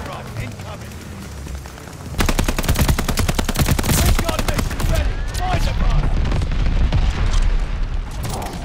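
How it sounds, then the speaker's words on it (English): A bombing run hits in a video game match on the Shipment map, with dense machine-gun fire and booming explosions that erupt suddenly and roar continuously, loud and close, while a voice talks underneath. "Allies called a bombing run. Incoming."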